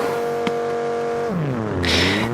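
Formula 3 race car engine in a racing video game, a steady high whine that drops in pitch as it shifts, then a hiss of tyre and engine noise as the car pulls away from the pits.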